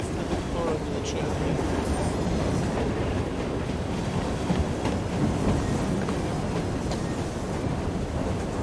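A train in Assassin's Creed Syndicate moves steadily, giving a continuous low rumble with rattling and faint clacks, moderately loud and unbroken, with no talk over it.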